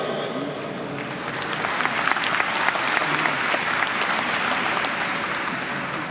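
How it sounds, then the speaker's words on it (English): Large audience at the IFFI Goa 2018 film festival opening ceremony giving a sustained round of applause, a dense, steady wash of clapping with a faint crowd murmur, swelling slightly midway. "Let's have a huge round of applause for our pride."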